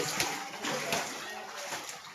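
Floodwater from heavy May rain sloshes and splashes inside a village house, soft watery movement running steadily throughout while someone talks over it.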